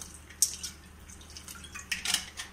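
Water is added to a pot of boiling broccoli and vegetables for soup, heard as a few brief close splashes and drips with light clinks of the pot, otherwise quiet.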